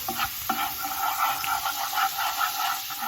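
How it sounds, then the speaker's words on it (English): Steady crackling sizzle of garlic frying in a hot pan, close and continuous, with a faint high whine running underneath. "the garlic sizzling up."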